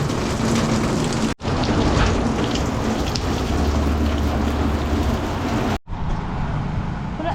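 Heavy rain pours outside a bakery in Alcala, a loud dense roar of water on surfaces that continues across two brief cuts.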